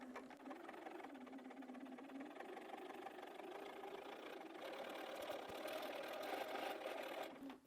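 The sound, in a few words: sewing machine stitching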